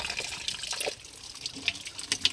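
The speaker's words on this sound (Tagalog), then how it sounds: "mag-igib tayo ng tubig dito sa kagubatan." Water trickles and splashes softly as it is fetched by hand in a forest, faint and irregular with small drips and sloshes.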